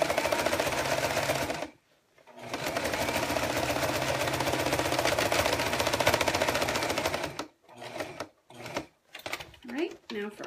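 A sewing machine stitches a zipper into a project with lining held out of the way, running steadily for several seconds, stopping briefly, then resuming before breaking into short intermittent bursts as the fabric is repositioned.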